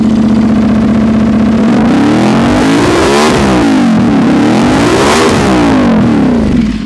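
An Aprilia RS 457 motorcycle fitted with an SC Project ZX10R exhaust revs loudly up close, its throttle blipped twice in rising and falling sweeps from a steady idle, with no talking.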